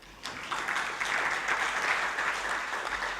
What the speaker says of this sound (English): A clap for PMI.